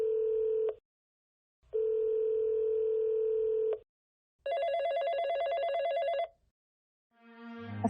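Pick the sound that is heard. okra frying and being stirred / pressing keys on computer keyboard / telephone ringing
telephone ringing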